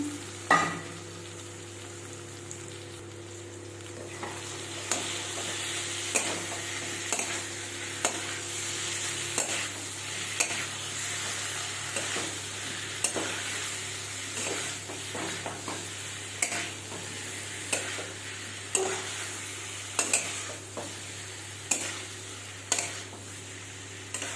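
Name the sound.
stir-frying fried jackfruit and potatoes in spice paste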